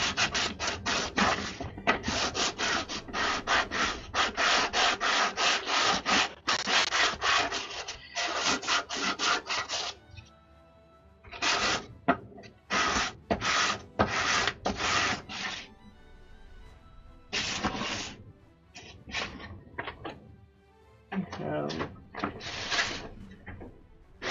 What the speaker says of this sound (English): Then another sanding down on this thing.